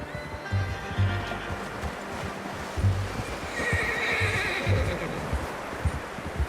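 A horse in the video game Red Dead Redemption 2 whinnies and neighs, with muffled hoofbeats clopping underneath and a faint wash of background ambience.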